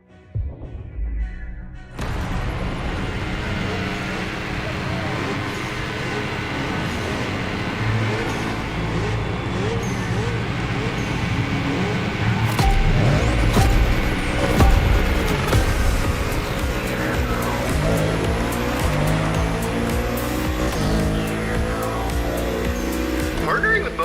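A Bugatti drives in The Crew Motorfest, its engine a continuous, fairly loud drone that rises and swells midway with shifting pitch, under a game soundtrack and other vehicle sounds.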